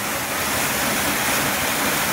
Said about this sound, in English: the water is running fully behind the ice there